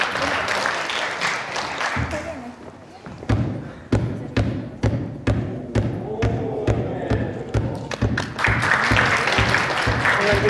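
Applause at youth basketball practice after a player's dribbling drill, rhythmic clapping under crowd noise and bouncing balls, growing louder near the end, with people talking over it.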